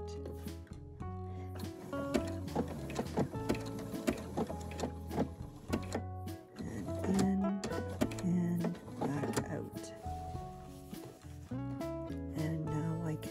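A sewing machine stitches down a quilt with a rapid, steady mechanical chatter, close and continuous, briefly pausing and then restarting.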